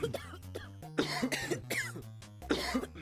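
Cough sound effects play on a livestream, one after another in quick succession, each a harsh burst over a low droning background, fairly close and loud.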